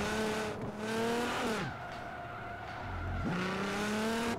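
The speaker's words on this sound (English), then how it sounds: "you just drift and tap the wall" Car engine revving and shifting with tire squeal as a car drifts in the racing game Forza Horizon 4, pitch climbing through the gears, steady and moderately loud with no talk.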